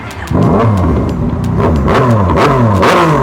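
A loud Yamaha MT-09 three-cylinder motorcycle engine revs hard several times in quick succession, its pitch sweeping up and down with each throttle blip, close by.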